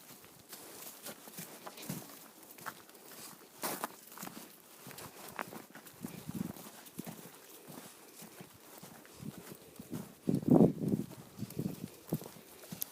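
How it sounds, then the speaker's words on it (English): Miniature horses walking on a snowy Minnesota farm, hooves clip-clopping in an irregular patter at close range, with one louder burst of hoof and movement noise near the end. "Now I'm going to go over and feed Grandma's miniature horses."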